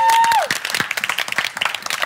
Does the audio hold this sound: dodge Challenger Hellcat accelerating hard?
no